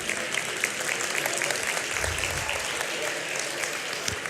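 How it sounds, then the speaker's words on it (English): Dense, steady audience applause fills a hall during a live motivational talk, an even wash of many hands clapping at once without a break for the full stretch. "That was it. Applause."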